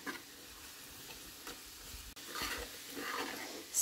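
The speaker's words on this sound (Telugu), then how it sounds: "ఇప్పుడు ఈ పౌడర్ అంతా కూడా ఆయిల్ వేసి క్యాబేజీ కూడా ఇందులో వేసి కలిపితే సరిపోతుంది." Cabbage pieces are stirred with spice powder and oil in a pan, giving quiet scraping and a faint crackle at close range, gradually growing a little louder.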